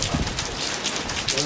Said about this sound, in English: And it's raining a lot.